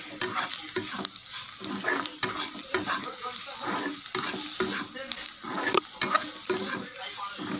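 Brinjal sabzi being dry-fried in a pan sizzles steadily while a spoon stirs and scrapes it in repeated strokes, close and clear, with no talking.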